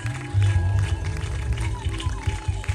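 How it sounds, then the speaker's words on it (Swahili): A church congregation claps and ululates for Jesus, a dense, loud, continuous wash of applause and trilling voices that swells and holds throughout, with speech mixed in. "Pigia Yesu makofi na vigelegele."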